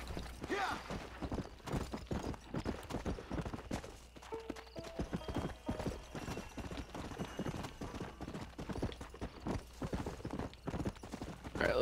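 In a video game, a horse's hooves clip-clop in a steady, fairly quiet rhythm, with an occasional creak of tack and a faint whinny.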